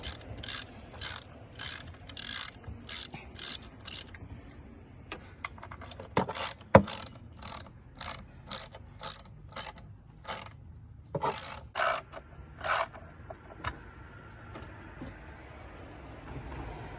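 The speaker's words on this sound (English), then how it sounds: "I'm going to be using a 10mm socket and ratchet. You just tighten these back up, just like how they came off." Ratchet with a 10mm socket snugging the camshaft position sensor bolts on a 2005 Nissan Altima 2.5 L four-cylinder engine: close bursts of rapid clicking pawl strokes in regular sets, with brief pauses and tool handling between them.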